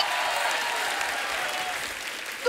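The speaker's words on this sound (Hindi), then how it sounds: "ये तालियां बजती रहेंगी, नहीं रुकने वाली" Audience applause fills the room, a dense steady wash of clapping from a crowd at a comedy show, sustained at even loudness from start to finish with no voices over it.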